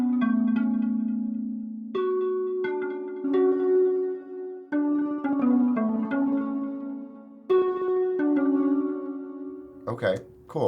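Buzzy, string-like synth chords from the Logic preset Buzzy String Space play in layered swells, changing every couple of seconds with a slightly echoing, spacious tone; no one speaks.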